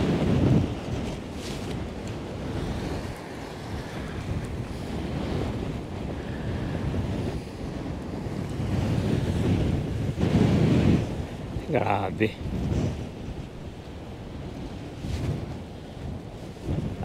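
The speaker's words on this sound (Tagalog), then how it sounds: "Malakas talaga yung hangin, saka malakas yung alon yan." Strong wind buffets the microphone while heavy ocean waves surge and crash at sea during a fishing trip, a loud, rumbling roar that swells and eases, with a brief spoken exclamation.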